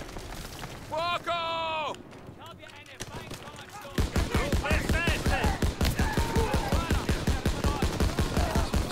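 Gunfire from machine guns and rifles in the Call of Duty WWII video game, rapid loud bursts that build into a dense, relentless volley after a brief lull, with shouting over the fire.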